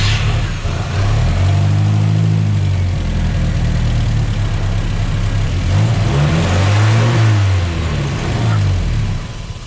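Turbocharged car engine revving steadily, loud and close, with broad air rush and rising-falling engine tones throughout.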